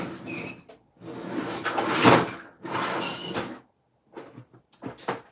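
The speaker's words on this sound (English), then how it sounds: "My drawers are clearly at the point of getting overfilled. So that's what you were hearing." Overstuffed drawers being pulled open and pushed shut, giving several bursts of scraping, rattling wood-and-contents noise with short pauses between, close and fairly loud indoors.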